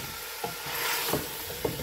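Onion, ginger and garlic fry in a pan, a steady close sizzle with a few soft scrape accents from stirring; no one speaks.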